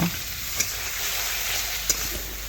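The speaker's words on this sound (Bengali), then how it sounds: "এখন ভালোভাবে একটু কষে নেব" Small fish cooking with turmeric, chilli powder, salt and a mustard and cumin paste give a steady, close frying hiss in the pan, broken by two brief spoon clicks from stirring.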